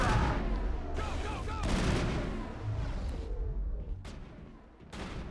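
Bursts of gunfire in the video game Mass Effect 1, several loud sharp volleys separated by short gaps over dense battle noise, with a voice speaking during the fighting.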